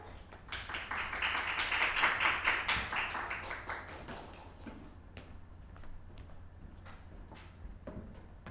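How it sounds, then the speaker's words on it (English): Audience applause at an English speech contest, a dense burst of clapping that swells over the first few seconds, then thins into scattered claps and taps with a quiet room behind. "Please give her a round of applause."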